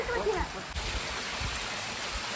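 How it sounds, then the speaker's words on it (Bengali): A forest waterfall with water flowing over rocks gives a steady, broad rushing hiss close by. Speech is heard briefly at the start. "ওয়াটারফলসে এসে এবার পৌঁছে গেছি"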